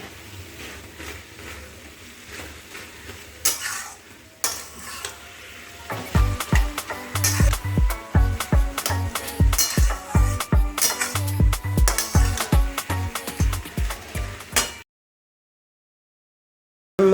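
A spoon stirs taro leaves (kochu shak) cooking in a pot, making loud, regular scraping and sizzling strokes for about nine seconds before stopping.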